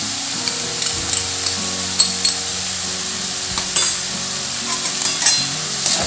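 A mix of chopped vegetables including beetroot and coriander is stirred and sautéed in a pan over low heat. The sizzle is continuous, with frequent scraping and knocking strokes of the spoon.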